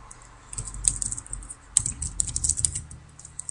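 Code being typed on a computer keyboard for a PHP MVC router, a steady run of close, crisp key taps with a few louder strikes and no talking.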